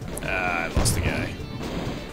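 Explosives go off in Battalion Commander 2, a single short, sharp crash-like burst in the middle of the clip, surrounded by thin electronic game tones and a steady low background hum.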